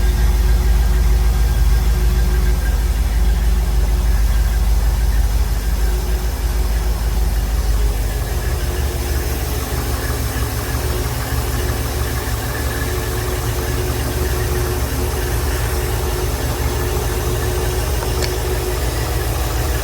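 A Silverton 34C boat engine fitted with a GM Marine HEI reverse rotation distributor idles steadily, a loud, continuous low rumble with constant vibration and a slight drop in pitch partway through, no voices over it.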